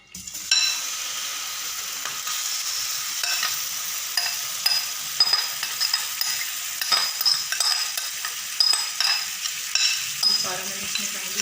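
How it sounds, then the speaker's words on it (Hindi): Marinated chicken sizzles in a pan with a spoonful of oil, a steady close crackle broken by repeated stirring scrapes and light clinks of the utensil against the pan. "अब इसमें जो ये चिकन हमने मैरिनेट किया था, तो ये मैं इसमें डालने लगी हूँ"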